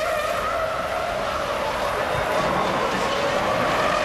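A Ferrari Formula 1 car from the 2003 Italian Grand Prix screams at full speed, a loud continuous high-pitched engine wail holding steady with no pauses and no voice over it.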